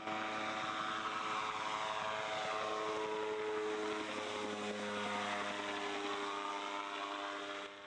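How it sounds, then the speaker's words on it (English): A Sportcopter Vortex gyroplane flies past with a steady, loud propeller drone and engine whine. The pitch shifts slightly as it passes, and no one talks. "You're watching Jim Vanek flying his personal Sportcopter"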